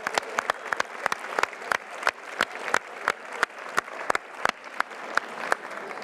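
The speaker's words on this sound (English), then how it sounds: "Give yourself a round of applause for this." A conference audience gives a sparse round of applause at the end of a session, with scattered distinct claps ringing out at an uneven rhythm over a quiet room.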